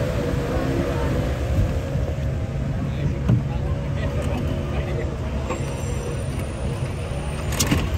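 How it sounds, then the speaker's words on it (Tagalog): A rescue boat engine warming up on the Marikina River runs steadily with a low, continuous rumble that holds at an even level throughout, without pauses. "pinapainit pa yung makina. Ayan na, umandar na"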